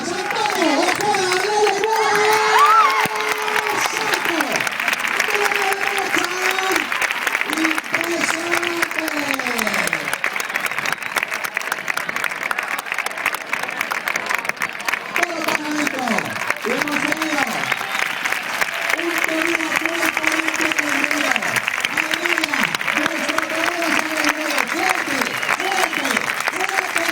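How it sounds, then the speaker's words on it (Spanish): Rhythmic palmas hand clapping from an audience at a flamenco exhibition, steady and loud throughout, with voices shouting and singing over it. "¡Palmas! ¡Palmas! ¡Palmas!"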